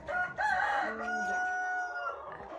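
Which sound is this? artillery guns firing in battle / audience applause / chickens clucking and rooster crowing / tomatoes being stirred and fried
chickens clucking and rooster crowing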